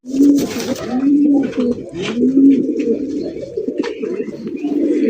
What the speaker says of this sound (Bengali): দেখেন নর কিভাবে ঘুরে ঘুরে ডাকতেছে